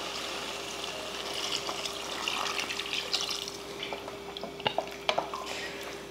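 Water pours steadily into a pot of frying masala for parotta salna, a continuous splashing wash with a few clinks and drips near the end.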